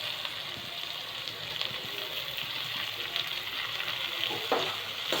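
Garlic and chili frying over a high gas flame, giving a loud, dense, continuous sizzle with no pauses from start to finish.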